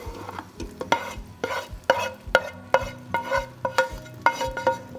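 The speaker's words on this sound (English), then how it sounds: "we're gonna add back in the mushrooms and onion and garlic" Mushrooms, onion and garlic being stirred into a pan of risotto, a spoon scraping and clacking in a steady rhythm over a low sizzle, close and moderately loud with no talk.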